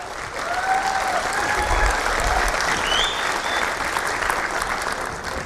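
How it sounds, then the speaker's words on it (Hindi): Strong, steady applause fills a hall where a motivational speaker addresses a large audience, dense even clapping at constant volume with faint whistles and crowd murmur mixed in. "एक बार जोरदार तालियां उस परमपिता परमेश्वर के लिए हो जाएं"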